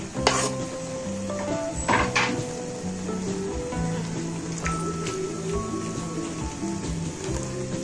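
Ghiya gosht (lauki and meat curry) with chopped tomatoes being stirred in a pot, a steady scraping and sizzling with a few sharper clinks of the spoon against the metal, close and continuous throughout.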